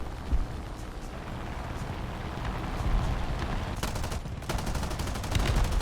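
Gunfire from a vehicle in War Thunder, the Tiny Tim setup, comes as a steady roll of low rumbling shots. Bursts of rapid crackling pulses grow sharper and louder toward the end, with no talk.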